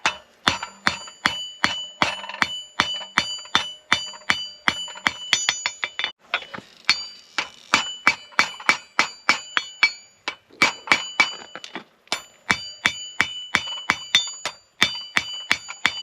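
Hammer striking hot steel on an anvil while forging a heart hook, a long series of sharp ringing blows in steady rhythm, with short pauses and bright metallic ring, close and loud.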